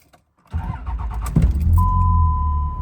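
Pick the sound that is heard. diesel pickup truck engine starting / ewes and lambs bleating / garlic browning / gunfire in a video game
diesel pickup truck engine starting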